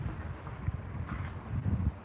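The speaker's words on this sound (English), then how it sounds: "My apologies if it's a bit windy." Steady low wind buffeting a microphone outdoors on a ride overlooking the Ottawa River, a continuous rumbling rush with a few stronger gusts swelling near the start and end, no voices over it.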